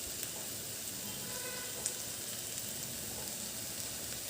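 Soy chunks (meal maker) frying in oil in a pan for biryani, a steady soft sizzle throughout with a faint clink near the middle, close and alone with no talk.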